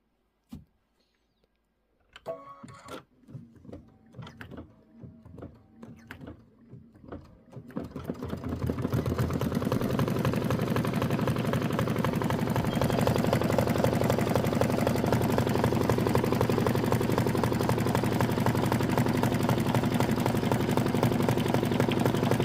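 A Kimberbell embroidery machine stitches down a lemonade quilt block, starting with a few scattered clicks and short bursts before settling into a loud, steady, continuous whirring run that carries on to the end, with no voices.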